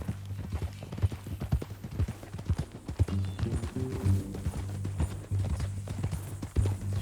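Rhythmic clip-clop of horse hooves trotting and galloping close by in Red Dead Redemption 2, steady and fairly loud against a low droning background.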